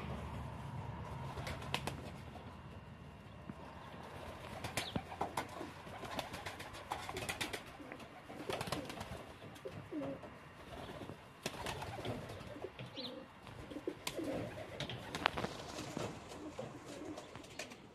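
Ornamental pigeons coo softly and steadily in a loft, a low murmuring chorus broken by scattered clicks, rustles and occasional wing flaps.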